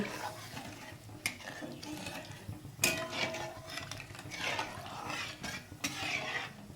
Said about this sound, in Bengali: জল দিয়ে এটা আমি নেড়ে দিচ্ছি